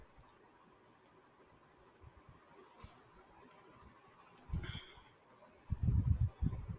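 Computer mouse clicks at a desk, a few faint sparse clicks followed by a couple of short louder bursts of handling noise near the end, with no talking.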